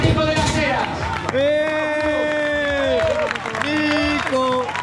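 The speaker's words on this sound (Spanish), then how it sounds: "Un aplauso para Nico de las Heras." Crowd applause and cheering for a trail race runner at the Trail Pura Vida 2022 event in Cornellana, Salas, Asturias, a dense sustained clapping that fills the clip, with a voice holding long sung or shouted notes over it.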